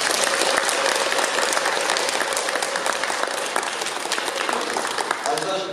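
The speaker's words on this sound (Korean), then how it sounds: "큰 박수 한번 보내주십시오" An audience at a Buddhist ceremony installing a new head of a Korean diocese claps loudly and steadily, a dense sustained round of applause that thins only slightly toward the end.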